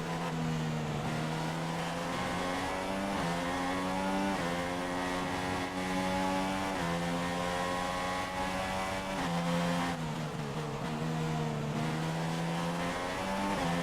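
Red Bull Formula 1 car racing in the F1 2016 video game, its engine whining loudly and steadily with pitch rising and dropping through gear shifts and braking, continuous and close with no talk.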